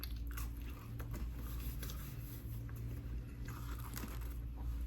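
Battered fries bitten and chewed at a hotel restaurant table, with soft crunchy bites and steady mastication sounding close and quiet over a constant low background hum.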